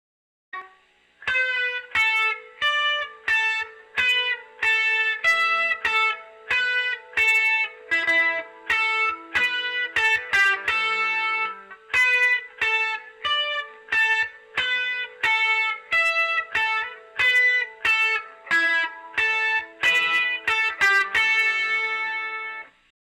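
Electric guitar played through an amp with overdrive, drive and tone knobs around midway, chugging a steady rhythmic riff of repeated crunchy chords with brief gaps between strums, loud and close with no voices.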